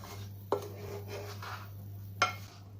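Dry-fruit gujiya stuffing is mixed in a bowl, giving two sharp clinks of a spoon against the bowl with soft scraping between, all over a steady low electrical hum and no speech.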